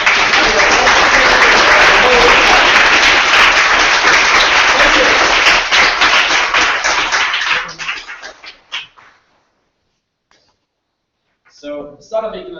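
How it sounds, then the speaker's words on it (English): Loud, dense applause from a large crowd at a startup event in Tokyo, thinning out into scattered claps and falling silent, then a voice begins speaking. "So please give a huge applause to"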